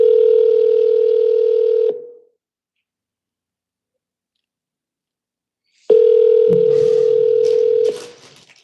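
Steady telephone dial tone sounds for about two seconds, cuts to silence, then returns with a burst of rapid keypad dialing beeps layered over it before fading, during a round of calls to for-sale-by-owner home listings.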